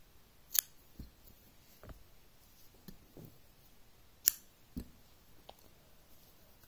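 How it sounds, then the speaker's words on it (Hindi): Crisp, isolated snips of scissors cutting crochet thread, a few sharp clicks spaced irregularly and heard close up in a quiet room. "एक चेन लेकर यहाँ पर धागा काट देंगे।"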